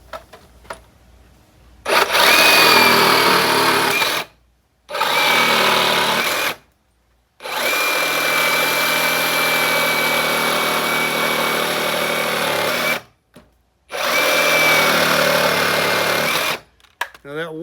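Power tool cutting through screws and nails in a wooden fence, loud continuous grinding whine in several long bursts separated by brief pauses, close up.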